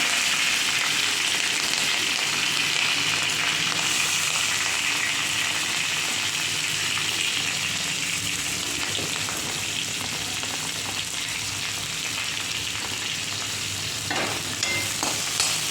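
Chopped onion sautés in a hot pan, a steady dense sizzle lasting throughout with intermittent stirring scrapes and clicks toward the end.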